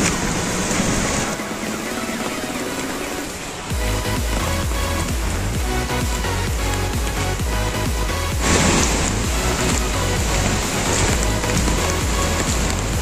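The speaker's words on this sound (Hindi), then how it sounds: "बारिश आ रहा है, पानी आ रहा है दोस्तों" Steady rain patters across a surface, dense and continuous, near Lodh Falls waterfall in the rainy season, with a brief dip in intensity before the downpour swells louder again.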